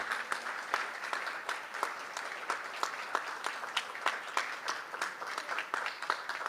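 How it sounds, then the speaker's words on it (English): An audience at a formal presidential event in the Philippines bursts into steady applause, a dense patter of many hands clapping at a moderate, slightly distant level throughout. "A round of applause, please."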